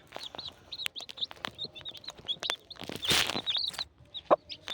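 Yellow Hitler-breed hens cluck and chirp repeatedly in short, close calls as they are fed grain, a busy scatter of fowl sounds with no talking.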